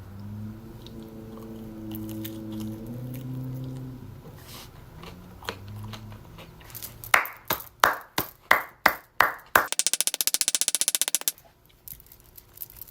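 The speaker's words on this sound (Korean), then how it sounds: "같이 박수를 치세요" A few people on a casual live stream clap along, first in sharp, evenly spaced claps close by, then in a quick burst of faster clapping. A quieter stretch with a soft tonal hum comes before the clapping.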